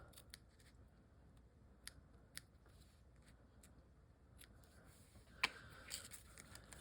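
Scissors snip through craft card stock at an angle while making a faux shaker card, a few sharp close cuts spread out among quiet rustling and handling noises.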